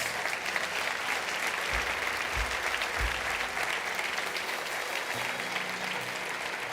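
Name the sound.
applause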